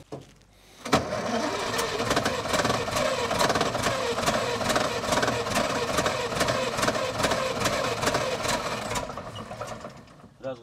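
Old Russian KrAZ truck diesel engine firing up after 26 years standing in a garage, a loud steady rapid knocking idle that starts abruptly after a second and runs continuously to the end.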